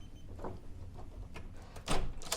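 A hotel room door with an RFID lock is opened: faint latch and handle clatter, then a louder scrape and thump as the door swings, heard close in a quiet corridor.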